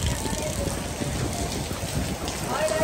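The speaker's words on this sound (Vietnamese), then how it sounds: "Trời mưa gió." Steady heavy rain hisses outdoors at the Bà Chúa Xứ temple area on Núi Sam in Vietnam, continuous and close, while a voice talks over it.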